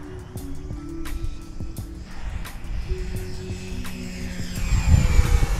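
An FMS PC-21 Pilatus RC airplane makes a high-speed pass down a runway. Its steady electric whine and rushing air hold at a moderate level throughout, with faint clicks, and swell louder toward the end as it draws nearer.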